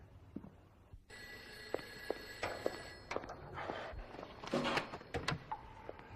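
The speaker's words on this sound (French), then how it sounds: "J'étais en train de préparer un corps quand le téléphone a sonné." An old telephone bell rings at a funeral home late at night, a sustained metallic jangle that starts after a second of quiet and continues amid faint footsteps and handling noises, fairly quiet overall.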